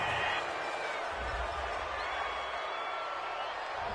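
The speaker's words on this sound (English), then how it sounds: "This home crowd, they're happy with that call." A stadium home crowd in a Madden football video game roars with a steady, broad cheer held for several seconds, under commentary voices.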